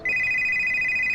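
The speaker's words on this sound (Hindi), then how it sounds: "हाँ, कहीं मेरा फोन बज रहा है।" A phone rings with a steady, continuous electronic tone that starts abruptly and holds loud and clear for about a second before cutting off.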